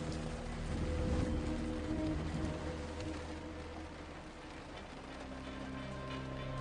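Rain falls steadily as a dense hiss, loudest near the start and easing slightly later, with a low rumbling undertone like traffic or distant thunder beneath it.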